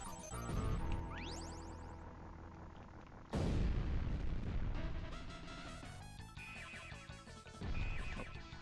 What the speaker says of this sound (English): There's people setting off fireworks, because of course.